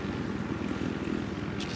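Helicopter in the Battlefield 3 video game gives a steady rotor and engine drone, moderately loud and continuous, with a brief higher burst near the end.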